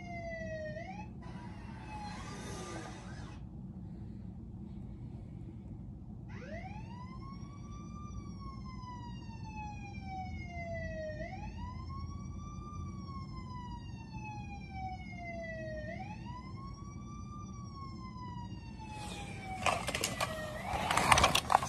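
Wailing ambulance and fire truck sirens rise and fall in repeated sweeps, at a moderate distance, with a burst of traffic noise near the end.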